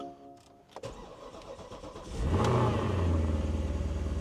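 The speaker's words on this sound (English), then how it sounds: "This will be a cold start, so I'll leave the door open so you guys can hear it as well." A Porsche Cayenne 958 cold-starts on a chilly morning: a brief fuel-pump whir and starter crank, then the engine catches with a loud rising flare and settles into a high, steady cold idle.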